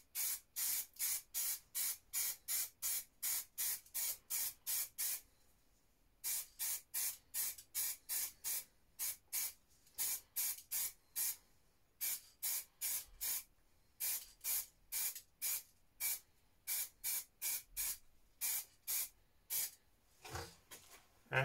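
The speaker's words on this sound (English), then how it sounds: "it's just gonna be a black base coat with the spray paint." Repeated short bursts of spray hissing from an aerosol can of black spray paint, steady rhythmic pulses with brief pauses, close and fairly loud, applying a base coat to a jerkbait fishing lure.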